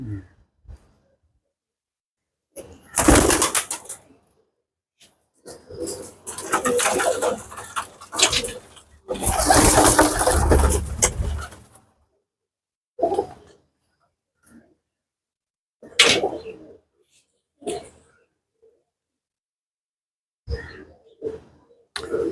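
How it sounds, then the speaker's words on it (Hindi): Parwazi flying pigeons, a pearl-patterned bird and a Teddy female, make bursts of soft cooing and rustling close by, with long quiet gaps between the calls. "ये मोतियों वाला कबूतर और टैडी मादा।"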